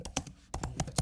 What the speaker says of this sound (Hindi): सिंपली टाइप करेंगे मोटर व्हीकल,